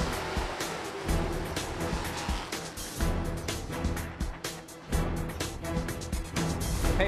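Street stock race cars roar around the Land of Legends track under a green flag, a dense, continuous wash of engine noise with surging passes, heard from a distance without a break.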